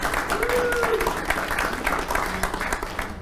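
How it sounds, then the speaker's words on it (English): Conference audience applauding a session sponsor at a content-creation talk: steady, dense clapping from a crowd throughout, fairly loud and continuous with a few faint voices mixed in. "so give them a round of applause."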